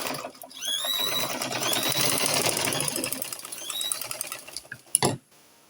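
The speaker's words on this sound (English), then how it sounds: "So you can see we are done stitching it." A sewing machine runs steadily for about five seconds, stitching a plunging princess-dart neckline with a whirring, rapid needle patter, then stops with a short knock and falls quiet.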